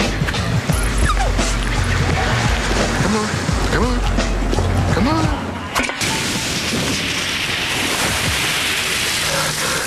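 A dog barking and yipping in a Sierra Mist lemon-lime soda TV commercial from 2003, with sharp repeated barks and whimpers over surf-like noise and voices talking.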